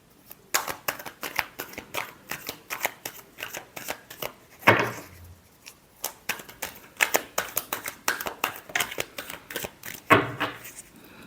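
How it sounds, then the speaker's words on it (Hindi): Tarot cards are riffled and shuffled in quick, crisp flurries, a rapid train of close papery flicks with two louder bridging snaps, steady and near with no voice over it. "Last shuffle."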